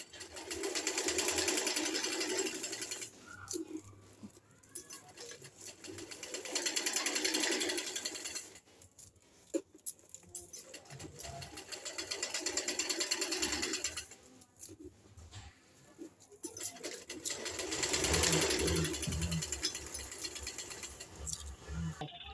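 A sewing machine stitches a suit in bursts of fast, rattling mechanical whirring, separated by short pauses; the motor starts and stops about four times, fairly close.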